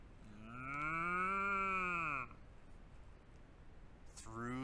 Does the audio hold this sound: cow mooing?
yes